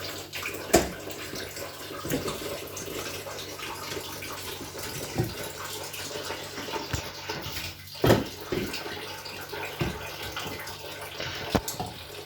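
Water runs steadily from a tap over a sheep's head as it is washed for kelle paça, with a few louder splashes and knocks standing out against the constant flow and no talking.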